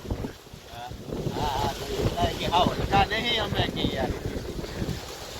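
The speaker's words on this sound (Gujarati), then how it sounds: "અને પવન થઈ ગયો બહુ આજ તો મિત્રો" Strong cyclone wind gusts across an open farm field outdoors, a continuous rushing roar buffeting the microphone while someone talks over it.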